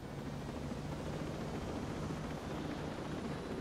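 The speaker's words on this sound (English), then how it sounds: "let's actually go get in the helicopter and fly over there" Steady, unbroken rotor and engine drone of a helicopter in flight in Ghost Recon Breakpoint, a constant low rumbling wash heard alone with no voices.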